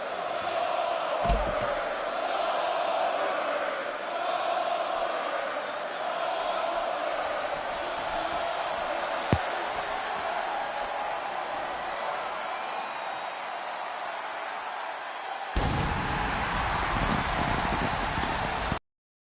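A dense, steady roar from the arena crowd in the WWE 2K23 wrestling game fills the space, loud and continuous, swelling slightly near the end as a wrestler makes his entrance.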